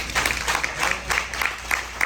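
An audience claps at an interview event, a moderate, somewhat uneven burst of applause with rhythmic hand claps over a low room hum.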